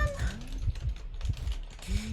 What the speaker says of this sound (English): Gonna hear a bunch of keyboard noises right now.